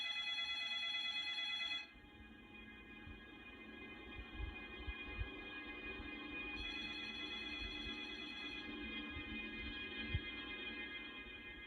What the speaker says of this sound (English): carefully timing it with the sound of the phone ringing not to give my presence away